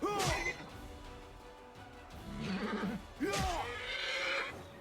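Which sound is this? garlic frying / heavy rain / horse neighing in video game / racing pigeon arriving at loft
horse neighing in video game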